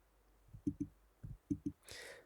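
Several sharp computer mouse clicks come in two quick pairs and a single tap while checking out online, close and clear, followed by a brief burst of hiss at the end.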